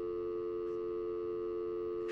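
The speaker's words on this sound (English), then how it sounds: "the dial tone is easier to catch than syphilis" Steady telephone dial tone in the video game Heavy Rain, a continuous, unbroken electronic hum held at constant loudness, with a brief click near the end.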